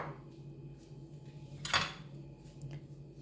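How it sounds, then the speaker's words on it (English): Spoon scraping and clinking against a bowl while flour is stirred into blended banana batter for Jamaican banana fritters, soft and close, with one sharper knock partway through. "Then now we mix it in. Just mix."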